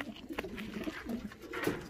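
Young racing pigeons cooing in a loft, several soft low coos and throaty murmurs overlapping in a brief, quiet close-up with faint rustling, no speech.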